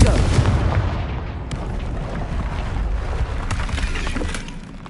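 A Confringo blast spell cast in the Hogwarts Legacy video game, a loud crashing explosion with shattering debris at the start that decays into a rumbling, crackling tail.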